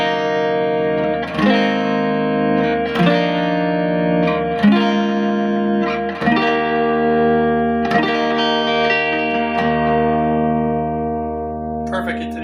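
Clean electric guitar on the neck pickup with a warm, round tone picks out a slow series of chords and arpeggios, each ringing out with a touch of reverb.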